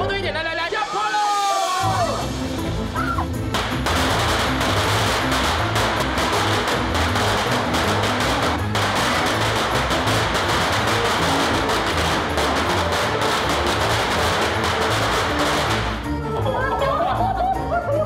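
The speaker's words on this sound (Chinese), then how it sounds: "后退一点，后退一点，来来来，要炮喽！" Firecrackers explode in a long, dense burst of rapid cracks at a Lantern Festival celebration in a southern Taiwan street, loud and close, with people shouting and cheering before and after.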